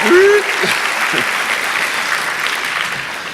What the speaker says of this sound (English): We've got the applause meter going.